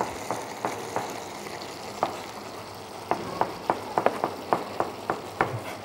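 Mushrooms for an Irish stew frying in a pan: a steady close sizzle with a run of sharp, uneven utensil clicks and scrapes against the pan, with no voices.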